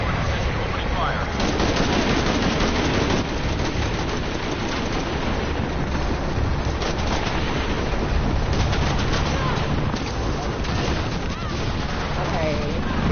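Helicopter gunfire in the video game Shadow of the Tomb Raider: continuous rapid machine-gun bursts and impacts over the loud, steady roar of combat, filling the whole stretch without pause.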